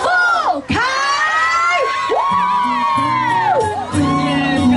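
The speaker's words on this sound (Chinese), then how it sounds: "热情的尖叫声，欢迎" Fans at an outdoor Hakka music festival concert scream, whoop and cheer loudly for a singer, high shrill shrieks and shouts rising and falling in a dense crowd.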